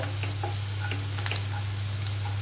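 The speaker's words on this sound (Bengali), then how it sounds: "একটু নাড়িয়ে নেব নাড়িয়ে নিয়ে আমি পুরো পেঁয়াজের সঙ্গে মিশিয়ে দেবো" Onions frying in a pan for chicken curry being stirred, a steady soft sizzle with faint scraping ticks under a low constant hum.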